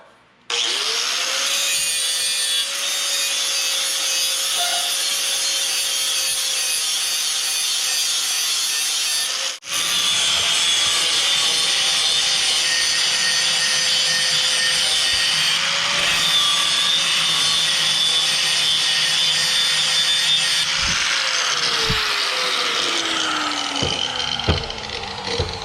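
Harbor Freight Bauer angle grinder grinding steel plates, a loud close whine that holds steady, then a harsh scraping grind when the disc bites, continuing after a brief cut before winding down near the end.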